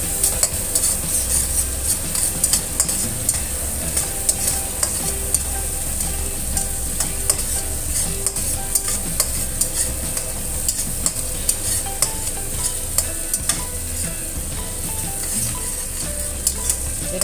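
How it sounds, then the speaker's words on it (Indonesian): Steady sizzling of shallots and garlic stir-frying in a hot pan for fried rice, with scraping and stirring noises throughout and no voices. "Oseng bawang merah dan bawang putihnya sampai benar-benar harum."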